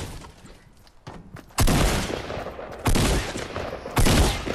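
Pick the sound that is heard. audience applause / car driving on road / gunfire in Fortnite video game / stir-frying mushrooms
gunfire in Fortnite video game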